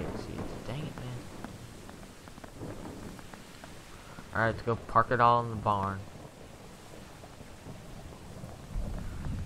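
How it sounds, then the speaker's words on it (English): A hailstorm in a Minecraft weather mod keeps up a steady rush of rain and hail with low thunder rumbling throughout, while someone talks over it partway through. "And we got a hailstorm on us now."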